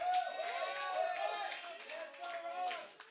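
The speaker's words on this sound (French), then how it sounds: "On peut l'applaudir." A live festival audience claps and cheers for the sound engineer, a short burst of applause with a voice speaking over it.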